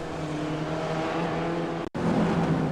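Spec Racer Ford race car engines at Lime Rock Park in the iRacing video game, a steady droning engine note that cuts out briefly near the end, then resumes louder.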